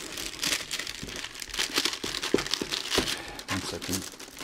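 Plastic wrapping crinkles and crackles close up as the box of a Lee 1958 Cadillac Eldorado Seville model kit is opened, a busy stream of rustling with small sharp crackles.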